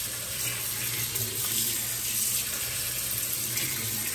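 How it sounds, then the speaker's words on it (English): Tap water runs steadily into a sink to soak the pad of an Arctic Air Pure Chill cooler, a continuous close splashing hiss without talk. "And let's pull it over here and it'll fill with water."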